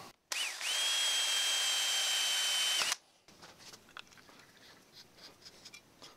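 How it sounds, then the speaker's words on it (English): A power drill whines steadily for a few seconds while drilling phenolic, then stops abruptly, followed by faint clicking and scraping of tapping threads in the material. "you can actually drill and tap threads into it"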